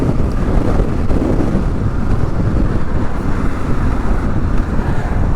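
Heavy, continuous wind buffeting a microphone on a 2022 Kawasaki KLR 650 dual-sport motorcycle during a ride, a loud, steady low rumble with engine noise blended underneath and no speech.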